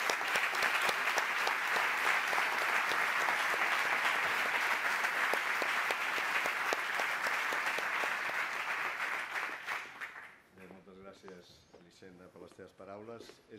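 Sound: audience applause for the hospital director

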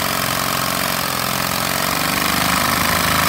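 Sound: nitro Lego butterfly engine running at high revs

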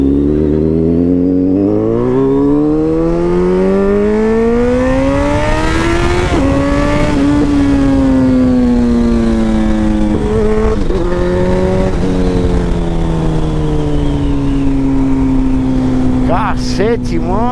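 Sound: Suzuki B-King motorcycle riding with stainless steel exhaust

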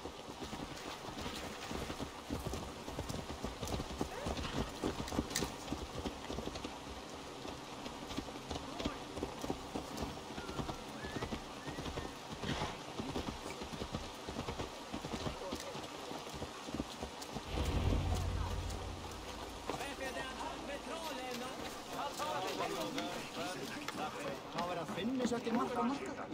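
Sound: horse hooves clip-clop in Assassin's Creed Valhalla video game

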